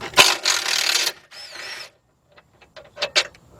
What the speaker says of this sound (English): Now I'm using a 13mm shallow socket, 3/8 drive